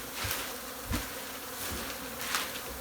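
Bees swarm around a large hive built into a house ceiling, a steady droning buzz that swells with a few louder close passes over a dense background hum.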